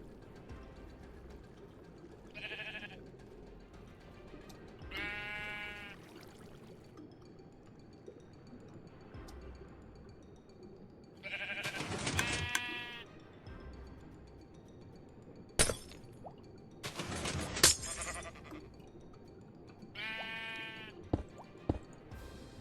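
Minecraft sheep bleat in short wavering calls, several spaced across the stretch, mixed with clinks, block-placing clicks and water ambience, fairly close.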